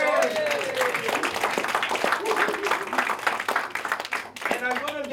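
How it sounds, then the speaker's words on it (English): An audience at a business seminar claps with a dense, uneven patter throughout, mixed with a voice talking loudly over it. "Give yourself a big round of applause."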